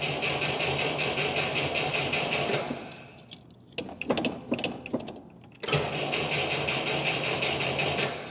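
A 1976 Volga GAZ M24 taxi engine runs with a steady, rhythmic chugging idle, drops out into a few clattering clicks and bumps, then catches and settles back into its even running beat, loud and close.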